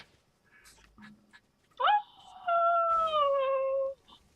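A house cat gives a drawn-out, wavering meow up close, preceded by faint rustling and a short chirp, with no talk.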